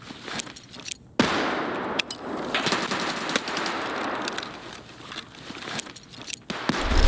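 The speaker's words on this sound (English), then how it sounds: "I got his fucking ass with that grenade" A thrown grenade goes off during an Escape from Tarkov raid: a sudden sharp blast, then a loud, continuous stretch of crackling, gunfire-like noise with scattered sharp cracks and thuds throughout.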